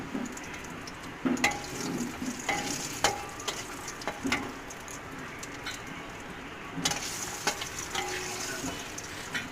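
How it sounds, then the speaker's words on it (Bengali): Bori lentil dumplings frying in oil in a pan until reddish, a soft steady sizzle with scattered light taps and stirring clicks, close and fairly quiet. "বড়িটাও একটু ভেজে নেব লাল লাল করে"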